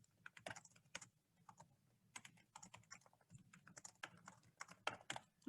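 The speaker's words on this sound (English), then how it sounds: "I'm going to press enter to get another bullet and type in the last" Typing on a computer keyboard while entering PowerPoint bullet text, quiet close key taps in irregular bursts with short pauses between them and one louder keystroke at the end, with no talking.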